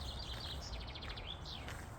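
Several birds chirp and trill in quick bursts in a park in Kingisepp, Russia, over a steady low rumble of outdoor background noise, fairly faint and continuous.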